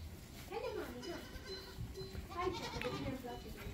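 Lambs bleating at a sheepfold in a Romanian farm setting, several overlapping wavering cries close by amid a busy flock, with people talking over them throughout.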